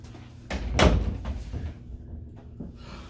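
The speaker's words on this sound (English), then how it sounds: "Close that door and open it again." A door swings shut with a solid thud and is then opened again, close by, with a brief follow-up knock; no one speaks.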